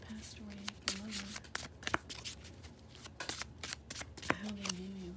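Tarot cards are shuffled by hand in quick riffling bursts, papery flicks and slaps repeating close to the microphone, with a voice speaking at times between them.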